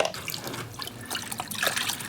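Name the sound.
water poured into a gold pan with black sand and mercury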